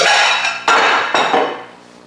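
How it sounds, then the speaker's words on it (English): Metal pie pan clinks and rattles as it is handed over in a home kitchen during pie crust making, giving two or three sharp bright metallic hits that ring out and fade, with no talk. "let me give you one of those pie pans"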